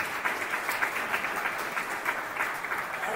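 Audience applause fills the room at a live presentation event, a steady dense wash of clapping at moderate loudness with no talking over it.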